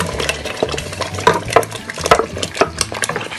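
Tomato sauce with goat meat is scraped and ladled from a small pot into a bigger one, giving wet stirring, knocks of a metal spoon on the pot rim and faint sizzling, close and busy.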